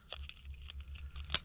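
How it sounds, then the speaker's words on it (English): Old 1980s Ford car keys jingle and clink in a few quick bursts, close by, over a low background hum. "Nothing special, just some old 80s Ford keys."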